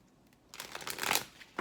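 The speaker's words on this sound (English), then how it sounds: "One more shuffle and let's cut the deck" A deck of tarot cards is riffled and shuffled in a quiet room, a short burst of rapid papery flutter that swells and then ends with a soft tap, with no voices.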